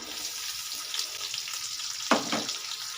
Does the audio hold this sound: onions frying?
yes